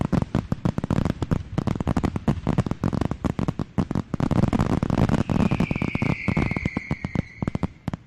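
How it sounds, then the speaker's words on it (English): Dense volley of fireworks bursts, sharp cracks and booms packed close together throughout, with a rising whistling shell streaking upward partway through; loud and continuous with no talking. "Let me see if I can get a look at those fireworks."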